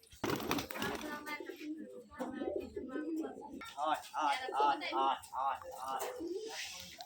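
Rajshahi Giribaz pigeons coo at a pigeon farm, soft, low and repeated, mixed with nearby people talking over the birds.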